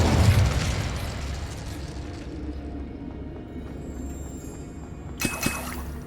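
Incendiary spell exploding in Hogwarts Legacy: a loud burst at the start that fades into a long rumbling tail over low game ambience, with a couple of small pops near the end.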